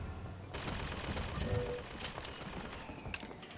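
Rapid gunfire bursts in Bioshock Infinite, a steady crackling fusillade of game weapons running through the whole stretch, with a few sharper mechanical clicks near the end.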